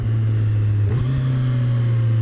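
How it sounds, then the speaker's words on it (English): A 2014 Kawasaki Z1000 motorcycle engine is revved while rev matching, a loud, close drone with a quick blip of revs near the middle before it settles back to a steady hum, with no talking. "let's try some rev matching"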